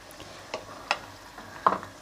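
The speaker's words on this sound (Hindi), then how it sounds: "हमारा जो चिकन है ना देखें फ्राई हो रहा है" Chicken fries in a pan with garlic, ginger and green chili paste for biryani: a soft, steady sizzle with a few sharp stirring clicks and scrapes close by.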